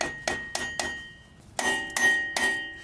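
Light metal-on-metal taps on a boat trailer hub grease cap, six sharp ringing strikes in an uneven rhythm, close and clear with no voices.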